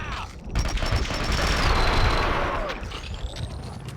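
Gunfire and explosions fill a Max Payne video game scene in a dense, continuous burst, with booming impacts and a faint whistling streak layered over the clatter, with no talking.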